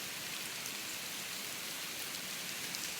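Rain falls steadily outdoors at a nature center beside the red wolf enclosure, an even, dense hiss of drops with no breaks and no voices.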